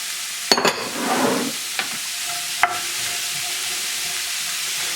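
Celery, onion and carrots stirred in a pot for a bison bolognese, a few spoon knocks and a short scraping stir over a soft hiss of cooking, then quieter.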